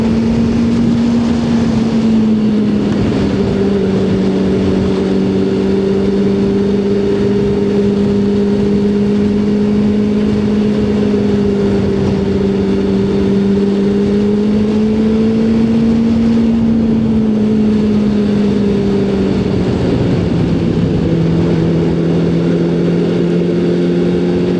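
A powerful Suzuki car engine revs and accelerates, a steady strong drone with rising and falling pitch that holds loud and close throughout, with no talking.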